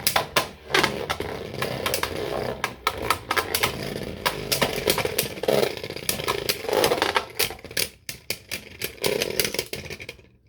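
A Beyblade Burst Surge Infinite Achilles top is launched in left spin mode and whirs in a stadium, a harsh buzzing grind with rapid clicks and scraping impacts, loud and close, fading near the end.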